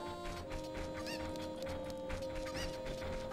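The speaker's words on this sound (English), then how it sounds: "We are going to help this lady find all her chickens." Cucco chickens cluck in Zelda: Ocarina of Time, a string of short game clucks and calls repeating over a busy background of game music and ambience.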